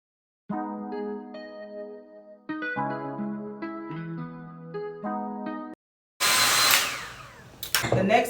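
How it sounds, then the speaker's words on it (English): A hair dryer on its cool setting blasts a loud, close, steady whoosh during the final two seconds, after a stretch of tonal music. "You wanna blow dry it on cool."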